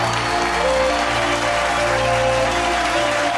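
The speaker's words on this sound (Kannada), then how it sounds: "ಒಂದು ದೊಡ್ಡ ಚಪ್ಪಾಳೆ ಬರಬೇಕು ಪ್ಲೀಸ್" Studio audience clapping on a Kannada television game show, a steady dense wash of applause lasting throughout, with music tones sustained underneath and no talking.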